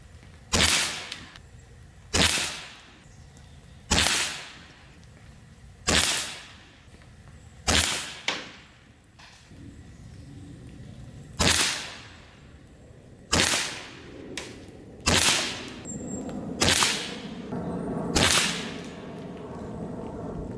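Kral Arms Empire XS micro bullpup PCP air rifle firing about a dozen sharp, loud shots spaced a second or two apart, each a crisp crack with a brief decay, with no talk between them.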